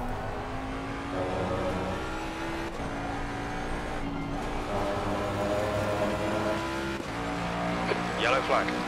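A GT race car circles Silverstone in Assetto Corsa Competizione, its engine droning steadily and shifting pitch through gear changes, with brief drops where it lifts off, running loud and continuous.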